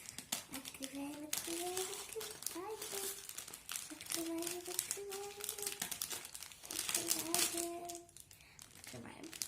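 LEGO Friends set packaging being opened, crisp close crinkling and rustling of plastic and cardboard under a person's steady talking, with a voice also heard.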